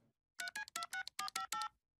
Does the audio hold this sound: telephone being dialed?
yes